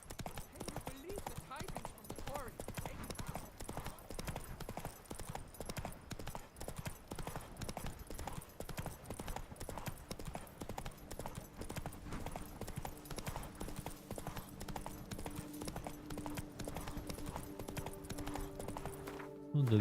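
Roach the horse gallops in The Witcher 3: Wild Hunt Blood and Wine on PS5, heard as rapid, rhythmic hoof clip-clops running steadily throughout at moderate loudness, with a voice talking over parts of it.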